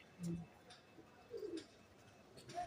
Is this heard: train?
no